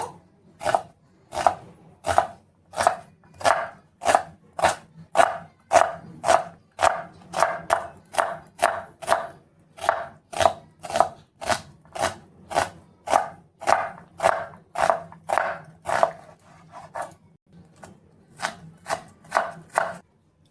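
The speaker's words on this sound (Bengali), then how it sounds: "এখানে একটা পেঁয়াজ নিয়েছি। তো এটা একটু ভালো করে কুচি করে নেব।" An onion being finely chopped with a knife on a cutting board for a puffed-rice snack recipe, giving steady, rapid, evenly spaced crisp knife strikes throughout, close and clear with no talk.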